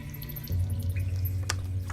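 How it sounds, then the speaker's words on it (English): Water drips in an echoing cavern as tabletop game ambience, a low resonant hum under a few sharp, distinct drops, one near the middle and a louder one at the end. "noises of dripping all around you"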